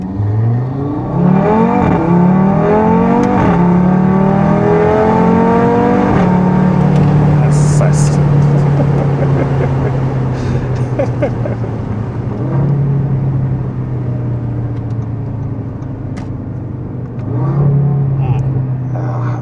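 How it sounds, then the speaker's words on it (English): Audi RS3 five-cylinder with a modified exhaust accelerating hard on the road, revs climbing in repeated sweeps through gear changes, loud and close throughout, with brief crackles mid-run. "so we enjoy that 5-cylinder tone"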